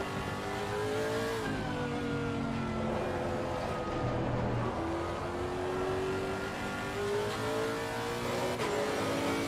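A race car engine in the Assetto Corsa Competizione racing game at Silverstone roars steadily, its pitch climbing and dropping through gear changes, with no talking over it.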